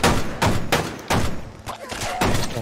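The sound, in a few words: gunshots in Fallout 76 video game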